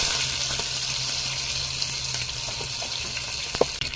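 Curry leaves hit hot oil with crackled mustard seeds and fenugreek while making a brinjal curry, giving a loud, continuous sizzle with scattered pops and a faint hum beneath.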